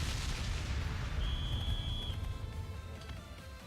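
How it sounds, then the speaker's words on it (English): Heavy booming cannon shots from the game Trails of Cold Steel III rumble over dense, noisy game action, with a thin high electronic tone sounding briefly partway through. "So those are the 4 cannons."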